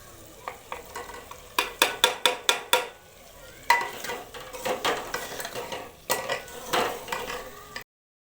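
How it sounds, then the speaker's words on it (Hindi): Bhindi frying in a pan as tomatoes go in: a quick run of rhythmic spoon scrapes and knocks against the pan, then looser stirring over a soft, continuous sizzle, heard up close. "अब मैं डाल रही हूँ टमाटर।"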